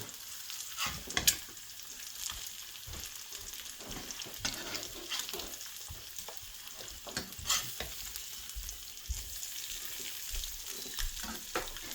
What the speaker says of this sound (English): Time to flip these bad boys over.